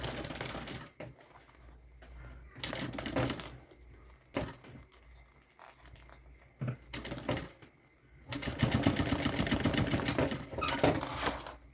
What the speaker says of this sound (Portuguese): Então eu vou clipar, costuro de um lado pro outro, depois costuro do outro pra um.